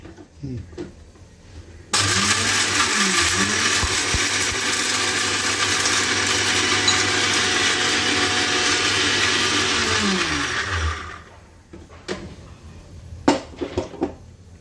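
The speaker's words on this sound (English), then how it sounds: "Blend this all into a smooth powder." A kitchen blender grinds dry garlic and spices into powder, starting abruptly in a loud, steady whirring roar and running for about eight seconds before winding down, with brief clatter and voices before and after.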